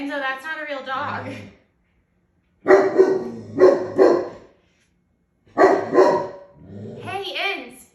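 A dog barking at a toy cookie jar dog that barks back: several short bark bursts in pairs with gaps between, mid-distance and moderately loud, mixed with people talking.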